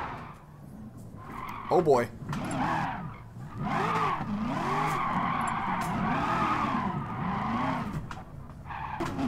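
Tires squealing and skidding as a car drifts in GT Sport, played online on PS4 with a direct drive wheel rig; wavering screeches over a revving engine, with a man's brief exclamation near the start.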